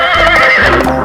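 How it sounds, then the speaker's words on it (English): A horse gives a single loud, close whinny lasting about a second, heard on its own. "Horse."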